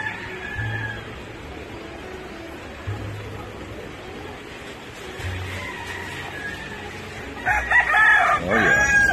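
A rooster crows loudly and up close in a rural area near rice fields. Softer low clucks and fowl calls come before it, with no talking.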